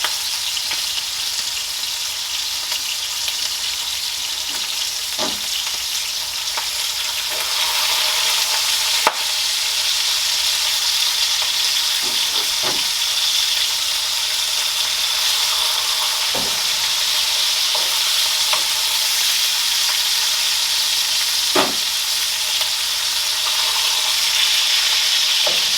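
Bacon sizzling in a Wagner cast iron skillet, a steady close frying hiss with scattered sharp pops and crackles throughout, no voices.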